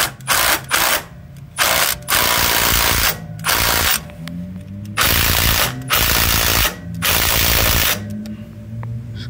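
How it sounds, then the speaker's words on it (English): Impact wrench hammers on an 8mm socket driving a three-jaw puller during timing belt work on a 2003 Dodge Neon, loud rattling bursts of about a second each, repeated eight or nine times with short pauses between. "Now you're not supposed to use impacts on pullers."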